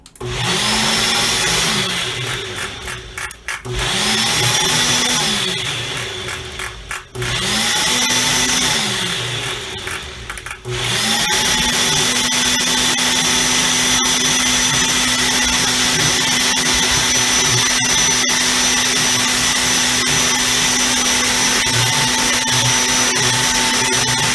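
A kitchen blender runs a program while making hemp milk. It whirs loud and steady, pulsing with brief dips over the first ten seconds, then holds a continuous high-pitched motor whine to the end.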